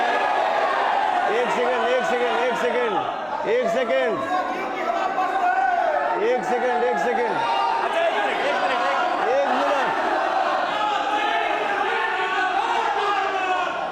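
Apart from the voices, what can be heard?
crowd of fans gathered to see Pawan Singh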